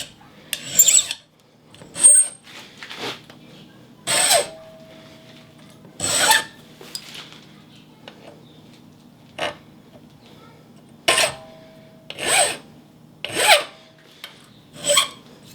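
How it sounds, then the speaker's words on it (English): Repeated rasping strokes of a hand file on a metal workpiece, irregularly spaced bursts with short pauses between, close up and fairly loud. "If you're filing and you get that kind of loud, nasty noise"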